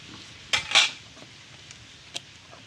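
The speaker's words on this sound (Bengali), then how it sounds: "চুলায় কড়াই বসাই দিলাম" A metal wok is set onto a stove. Two sharp, close clanks sound in quick succession, followed a little later by a lighter metallic tap, with a quiet room around them.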